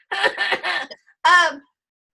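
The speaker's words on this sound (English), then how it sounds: "I don't know why I'm coughing." Three quick, harsh coughs in a row from a person with Lyme disease, close by, followed by a short voiced sound after a brief pause.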